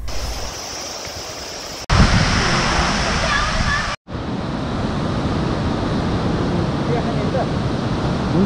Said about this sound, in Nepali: तपाईले अहिले देखिरहनु भएको झरनाको नाम बुङ झरना हो।